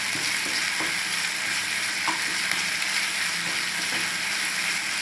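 Finely chopped chicken fries in oil with onion, ginger and garlic, a close, continuous crackling sizzle with light stirring scrapes throughout, no voices.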